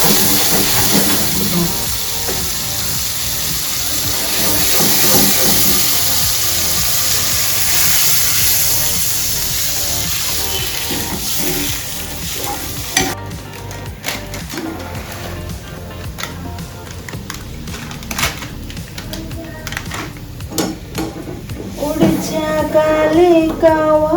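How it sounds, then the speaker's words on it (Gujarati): A spice tempering of garlic, chili, turmeric and salt for gathiya curry hisses and sizzles in hot oil, a loud continuous frying sound with scattered crackles, partly under background music. "આ આપણા ગાંઠિયા શાકનો વઘાર."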